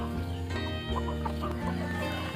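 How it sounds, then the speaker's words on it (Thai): Older, fully grown village chickens aged one to two years cluck close by on a farm, several overlapping calls in quick succession. "ฝั่งนี้จะเป็น ไก่แก่นิดนึงนะครับตัวใหญ่แล้วนะครับ"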